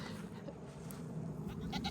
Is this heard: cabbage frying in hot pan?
no